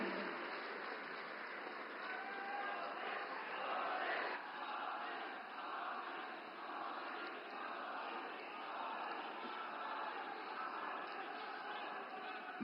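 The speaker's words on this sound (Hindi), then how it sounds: "आइए जोरदार तालियों रूपी आदर के साथ आमंत्रित करते हैं" A large audience at a public event in Gujarat applauds steadily to welcome Prime Minister Narendra Modi. The clapping is a dense, continuous roar of many hands that swells and settles at a fairly even loudness.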